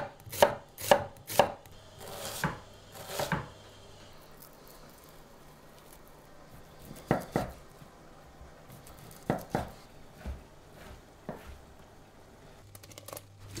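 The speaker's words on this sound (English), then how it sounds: "What we're gonna chop up is some nice white onion." A knife chops white onion and cured pork side on a cutting board in quick irregular bursts of sharp taps, with pauses between clusters, close and fairly quiet.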